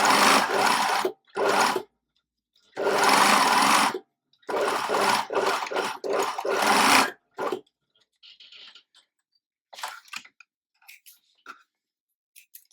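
Sewing machine stitching culottes fabric, running in several loud bursts of a second or so with short pauses between, followed by quieter scattered handling and snipping sounds.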